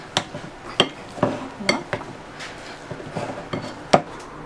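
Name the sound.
mashing boiled potatoes with a potato masher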